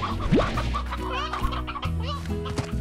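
Hens clucking in the video game Slime Rancher, several short repeated clucks and chatter over a steady tonal game soundtrack with a brief rising synthetic effect.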